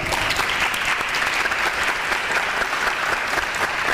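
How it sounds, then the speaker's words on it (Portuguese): Sustained, dense audience applause fills the room with continuous clapping at a steady level and no pauses, heard alone without talk. "Eu peço uma salva de palmas para esses profissionais."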